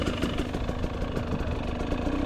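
A GasGas EX250 dirt bike engine while riding: a steady, dense, buzzing two-stroke drone with a rapid pulsing rhythm, continuous and fairly loud throughout, with no talking.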